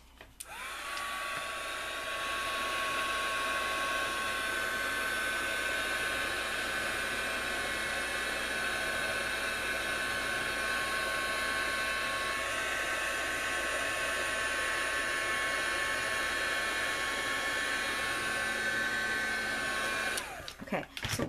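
Heat tool blowing hot air onto craft card for a Mother's Day card, a steady close whooshing drone with a faint whine that runs unbroken for about twenty seconds before switching off.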